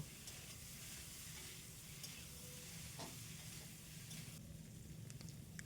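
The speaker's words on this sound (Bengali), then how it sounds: "এবার নাড়াচাড়া করতে থাকব" Green chilies and ginger paste with salt and turmeric fry in a pan, giving a constant soft sizzle with scraping stir strokes throughout, heard alone.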